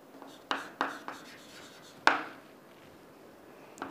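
Handwriting on a page for a risk-and-return worked example: a few soft, scratchy pen strokes in short bursts, with one sharper stroke near the middle. The strokes are fairly close but quiet, and no one speaks.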